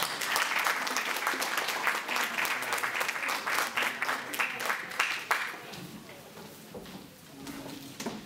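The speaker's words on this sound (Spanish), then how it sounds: "Un aplauso, por favor." Audience applause welcoming a speaker at an accounting talk, dense rapid clapping that gradually thins and fades out over several seconds, with murmured voices as it dies away.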